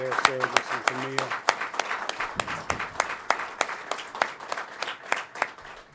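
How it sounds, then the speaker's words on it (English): A small audience claps to honor veterans and Gold Star families, a sparse run of distinct, separate hand claps at an uneven pace, with a voice briefly speaking near the start. "let us give a round of applause to Mecca and to Mario Nelson"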